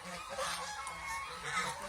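Ducks on a commercial duck farm, a dense flock honking and quacking together continuously at close range without a break.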